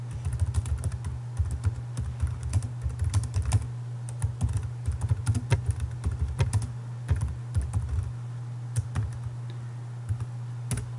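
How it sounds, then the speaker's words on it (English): Steady keyboard typing, a rapid run of clicky keystrokes with brief pauses, close up and continuous for the whole stretch. "Pardon my bad typing."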